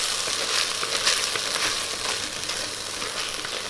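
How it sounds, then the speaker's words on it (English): A masala of tomatoes, onions and zira fries in a pan with a steady, close hiss and crackle of sizzling, broken by the soft scrape of stirring, with no voices. "I want to cook this masala right through"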